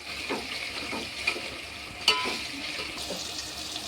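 Onion and tomato cook in hot oil for chicken biryani, a soft steady sizzle broken by a few scraping stirs of the spoon against the pan, close and fairly quiet, with no voices.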